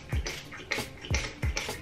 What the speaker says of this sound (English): So I've just got a spray bottle with water,